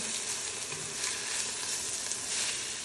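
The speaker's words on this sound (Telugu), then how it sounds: "వేసుకొని కొంచెం సాల్ట్ వేసుకొని మళ్ళీ కొంచెం సేపు వేయించుకోవాలి" Chicken pulao ingredients with cut chillies and salt fry in a pan, giving a continuous, even sizzle that stays close and moderately loud throughout.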